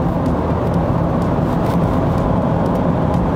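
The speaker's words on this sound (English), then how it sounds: "You get a lot of wind noise coming from the edges of these pillars, from the windscreen." Cabin of a Ford Ranger Wildtrak at speed, with wind noise from the windscreen pillars: a steady, loud low rumble and broad road and wind hiss, constant throughout with no talk.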